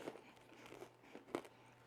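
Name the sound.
crunch of biting into roasted almond toffee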